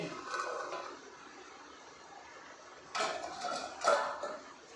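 Jackfruit and turmeric sautéing in a pot without oil, soft scraping and metallic clatter of a spoon against the pot in a few brief bursts over a quiet background.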